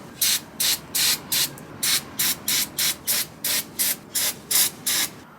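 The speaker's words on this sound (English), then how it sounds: "Let's go clean this up a little bit with some brake cleaner" Brake cleaner sprays onto the brake parts of a 10th-gen Honda Civic Si in about fourteen short, loud, hissing bursts, each lasting under a second and evenly spaced, with no talking.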